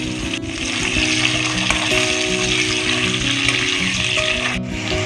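Crushed garlic with potatoes and sweet potatoes frying in an oil-filled pan for a Bengali wedding-style fish-head dish, a steady loud sizzle running throughout with occasional stirring clatter.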